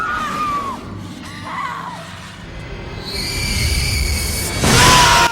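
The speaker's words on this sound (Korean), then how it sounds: "그리고 갑자기 들리는 비명소리" A sudden scream rings out in a horror film scene about a vanished village, a sequence of loud wavering cries and shrieks against eerie tonal music that swells toward the end.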